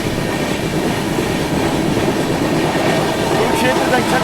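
The Shree Shakti AC Express rumbles along near Kurukshetra Junction in a continuous, loud rail noise with faint rhythmic clatter and a brief high squeal near the end.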